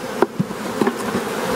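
Honey bees buzz softly on a hive frame, a steady low hum with a few brief sharp clicks and bumps close by.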